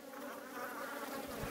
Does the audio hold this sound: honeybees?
yes